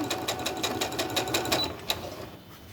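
Sewing machine stitching pieces of quilt fabric for a crazy quilt, a steady close rapid mechanical chatter with rhythmic needle pulses that stops just before the end.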